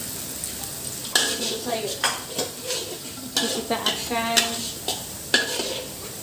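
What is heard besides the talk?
stirring garlic frying in a pan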